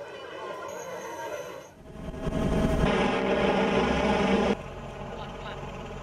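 A royal helicopter provided by the Thai police aviation division drones loudly, its engine and rotor noise swelling sharply midway and then easing back slightly, with a voice speaking over it.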